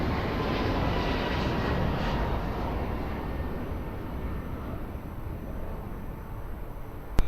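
A jet airliner lands on runway 02 at Lisbon Airport, heard as a steady, broad engine roar that holds at an even level throughout, with no voices.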